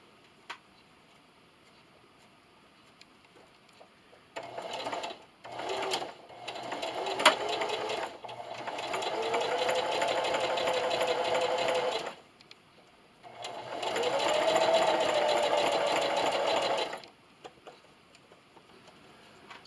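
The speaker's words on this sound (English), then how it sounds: "I'm back over here at my sewing machine" A sewing machine stitches burlap for a Valentine's Day garden flag, running in two long steady bursts with a few short starts and stops between them, close and alone with no talk.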